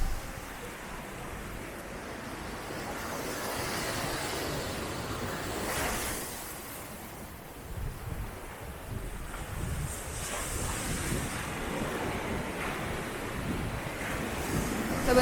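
Large ocean waves break and surge continuously at Bingin Beach, Bali, a steady loud roar of surf with wind buffeting the microphone throughout, swelling in a few heavier crashes.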